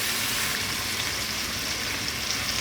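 Chicken pieces browning in a frying pan, a steady, loud, close sizzle of hot oil with constant crackle and no pauses.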